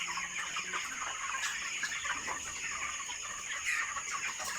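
Broiler chickens, 28 days old, cluck and murmur in a crowded farm house at night, a soft continuous chorus with scattered sharper calls.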